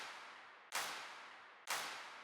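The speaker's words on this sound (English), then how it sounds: "got your big festival clap" Big festival-style clap sample in a dance track chorus, two loud broadband hits about a second apart, each ringing out with a long reverb tail.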